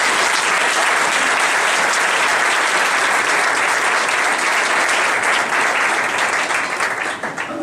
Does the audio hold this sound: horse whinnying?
no